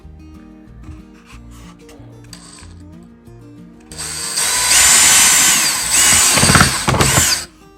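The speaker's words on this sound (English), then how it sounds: "And then I will drill a hole right here in the corner." A power drill bores a hole in the corner of a thrifted wooden Christmas stocking cutout. After a quiet stretch with background music, about three and a half seconds of loud, close, whining drilling follow, ending in a few short bursts; a voice speaks briefly.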